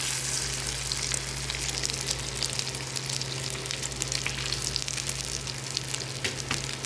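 Chicken vegetable cutlets fry on a tawa with a steady, close, crackling sizzle, a continuous hiss with small pops, under a low constant hum.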